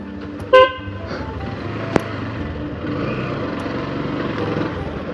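A rare 125cc cafe racer motorcycle's horn gives one brief, bright toot early on, followed by a sharp click and then continuous engine and street rumble.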